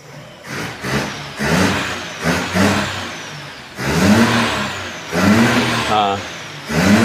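A Daihatsu Ceria carburetor engine with fuel waste and black exhaust smoke is blipped in sharp throttle bursts, several quick revs rising and falling close by, with some voices in the background.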